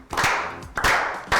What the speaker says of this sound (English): You got to get the clap going.